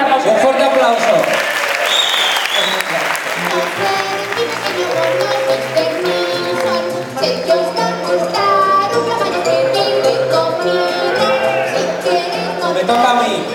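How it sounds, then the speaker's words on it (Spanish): Festival audience applauding at the closing ceremony of a horror film week, a dense, steady wash of clapping lasting the whole stretch, with tonal sounds running underneath. "Un fuerte aplauso."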